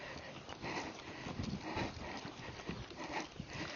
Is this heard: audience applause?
no